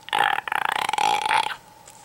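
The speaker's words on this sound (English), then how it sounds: "I'm just practicing my throat bass." A voice makes a raspy, crackling throat bass sound in a couple of gravelly bursts, close and fairly loud, like a growling burp.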